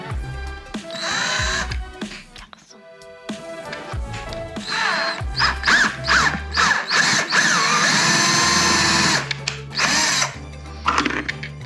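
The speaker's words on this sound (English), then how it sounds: "So we'll drill another hole straight through here, 1/4 inch." A power drill bores a 1/4 inch hole through an IKEA metal bracket, loud whining bursts that start and stop repeatedly, rising in pitch and ending with a longer sustained run close by.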